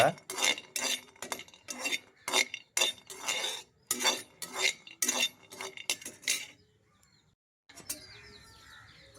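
Semiya vermicelli being roasted golden in a pan for semiya payasam and stirred with a utensil: a run of close, rhythmic scraping and clinking strokes, then a quieter, sparser stretch.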